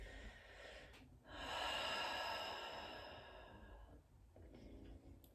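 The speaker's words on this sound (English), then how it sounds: "exhale through both sides of the nose or the mouth" A slow, soft exhale through the nose or mouth during a yoga breathing practice, a single long breath swelling and fading near the listener in a quiet room.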